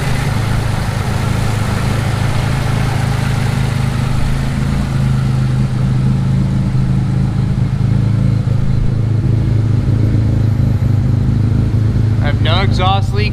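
A fully built Mitsubishi 3000GT with a noisy clutch runs close by in a steady, loud, low rumble throughout, with a few sharp clicks near the end.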